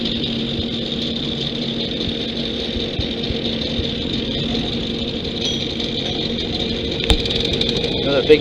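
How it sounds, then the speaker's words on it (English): A big generator used to power tools drones steadily from start to finish, a constant mid-pitched engine hum with no breaks, while talk carries faintly over it. "Another big generator."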